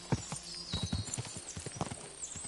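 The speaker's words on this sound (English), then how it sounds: "Okay, so I have to ride a lot more now." Horse hooves clop steadily at a trot while riding in the video game Kingdom Come Deliverance II, close rhythmic beats with tack jingling and a faint whinny, no talk.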